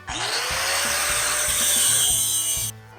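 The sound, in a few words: cutting an aluminum pipe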